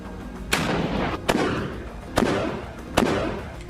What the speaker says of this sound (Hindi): वो वहीं पर अपनी स्नाइपर राइफल रखकर सामने की बिल्डिंग में मौजूद इजरायली सैनिक पर फायर कर देता है